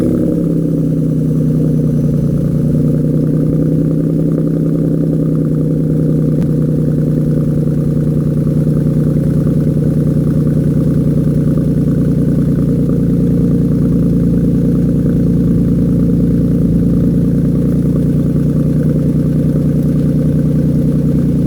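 A 2016 Ford Mustang with a V6 engine idles steadily after sitting unused for three days, a loud, close, even low rumble with a constant hum and no revving, no talking.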